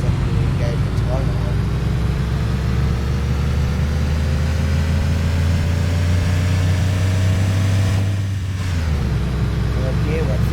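An American school bus engine in the OMSI 2 driving simulator drones loudly as it shifts into second gear, a low rising hum that dips briefly near the end before pulling again, with someone talking over it.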